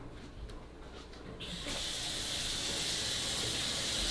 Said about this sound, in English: I have to wait for the water to get hot.